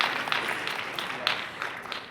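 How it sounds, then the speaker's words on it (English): An audience at a global health awards ceremony claps in a sustained round of applause, with dense, even clapping and a few sharper hand claps standing out near the end. "If we could just give them a round of applause, please."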